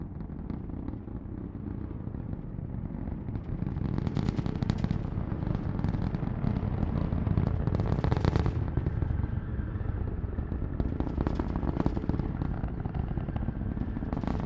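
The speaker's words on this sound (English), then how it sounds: "Let's listen to the roar of the 9 Merlin engines." Nine Merlin engines of a SpaceX Falcon 9 roar during a Starlink launch in a steady, distant rumble with crackling bursts, continuous and without any talking.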